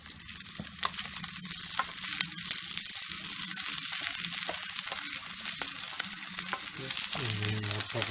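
Rice frying in a hot pan sizzles steadily while a utensil stirs and scrapes through it, close and continuous with no talking.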